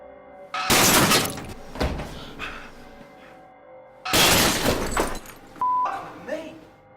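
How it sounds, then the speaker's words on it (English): A mirror shatters in a TV commercial as a fake woman's head crashes through it: two loud, close bursts of breaking glass a few seconds apart, each trailing off into tinkling shards, with quieter thumps and a short beep between. "a fake woman's head crashes through the mirror, shattering it and leaving blood draining from her forehead"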